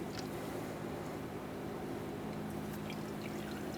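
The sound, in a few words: brake fluid flowing from opened bleeder on Ram 2500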